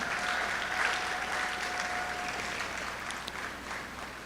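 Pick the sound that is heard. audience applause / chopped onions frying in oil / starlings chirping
audience applause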